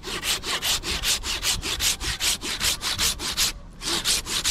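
A saw cuts through a tall mahogany tree in a narrow felling spot, close and loud, in steady rapid back-and-forth strokes with one brief pause near the end, with no voices.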